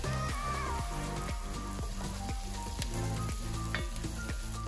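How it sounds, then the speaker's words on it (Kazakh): Chopped onions and carrots fry in a pan for lentil soup, giving a loud, constant sizzle broken by regular stirring scrapes. "қуырылып жатқан пиязымыздың үстіне 4-5 топ туралған сәбізімізді салып, жақсылап қуырып аламыз"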